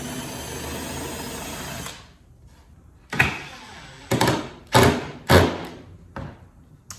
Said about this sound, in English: So pilot hole, and then I'm going to do a little countersink.